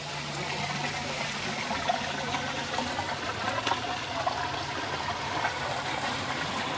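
Gray water rushing out of an RV holding tank, a steady broadband watery gush with trickling detail that holds at an even level throughout, with no talk.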